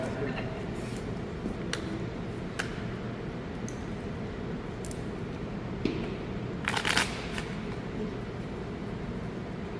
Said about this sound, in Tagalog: Marunong kang magbalasa ng baraha? Yes? Sige. Balasahin mo.